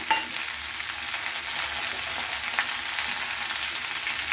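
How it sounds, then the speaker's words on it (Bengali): Cauliflower and potato curry with tomato sizzles in a pan while being stirred, a steady close hiss of frying with soft scraping of the spoon throughout, no voices. "এবার আমি এটা দিয়ে নাড়িয়ে নিচ্ছি এভাবে, বারবার ধরে নাড়তে হবে এটা"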